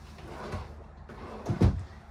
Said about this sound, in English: Very nice drawers in here.